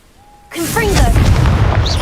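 A loud, sustained fiery blast from a Confringo spell in a wizarding video game, bursting after a moment of quiet and continuing as a roaring rumble with game sounds and voice-like tones over it.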